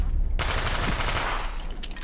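A burst of submachine gun fire rattles in a Call of Duty: Black Ops one-on-one match, loud and rapid after a short quiet start, tailing off near the end.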